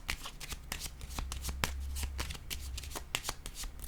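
A deck of playing cards being shuffled up close, rapid riffling flutters and crisp snapping slaps repeating quickly over a low background hum.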